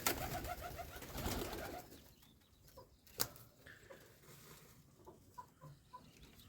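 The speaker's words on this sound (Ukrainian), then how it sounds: "З бакінів два голуба білих." White Baku pigeons give soft, low coos among faint clucking and rustling in a quiet loft, after a busier burst of bird noise at the start.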